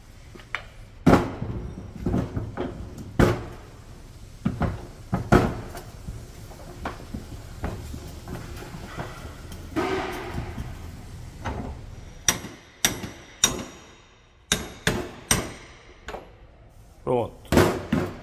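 Metal tapping to free a bearing sleeve from a Toyota Hilux wheel hub in a workshop, sharp irregular knocks in short clusters, with someone talking between the blows.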